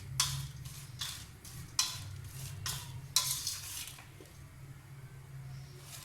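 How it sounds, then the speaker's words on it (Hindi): Spoon stirring kadhi pakora batter of yogurt with a little baking soda, heard as soft repeated scraping and swishing strokes in an irregular rhythm, close by with a low steady hum underneath and no talking. "हम तमाम चीज़ों को मिक्स करेंगे।"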